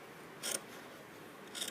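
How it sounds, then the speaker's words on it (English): Scissors snip twice through fabric, trimming away extra seam allowance beside the stitch line of a French bias finish; two short, crisp cuts about a second apart, close and quiet with no talk. "now you can trim away your extra seam allowances."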